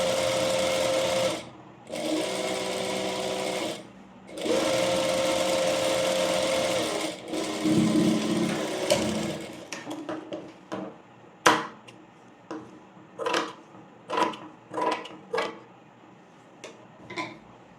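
A sewing machine stitches a baby A-line frock in long runs of rapid, steady whirring broken by brief pauses, then gives way to scattered short clicks and taps of handling the fabric.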